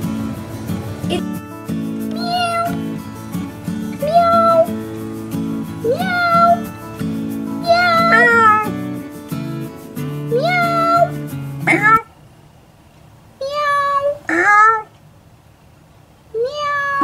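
A cat meows repeatedly in rising, drawn-out cries over a steady low hum, close and clear, then a few more sharp meows after the background drops away near the end.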